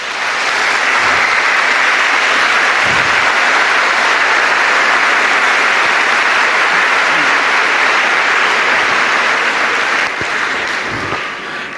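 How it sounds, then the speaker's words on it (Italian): Large audience at the Pope's general audience gives long, dense, sustained applause, loud and even throughout, tapering only slightly at the end. "io vi invito a fare un omaggio a loro con un bel applauso."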